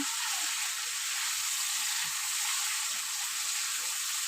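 A spice paste of onion, garlic, ginger, tomato, chilli and cumin powder fries in a pan for a tilapia curry, making a continuous even sizzle.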